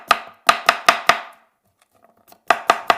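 A knife chops unripe jackfruit into small pieces on a board in sharp, close, evenly spaced thuds: five quick strokes, a short pause, then three more.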